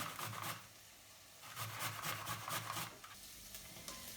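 Fresh ginger scraped over the finest side of a hand grater in short, repeated rasping strokes, close and fairly quiet, with brief pauses between bursts.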